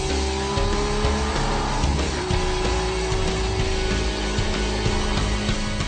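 An Aston Martin V12 Vantage S drives hard with a loud, continuous engine roar, the V12 note rising and shifting as it accelerates, with tire noise mixed in and no voices.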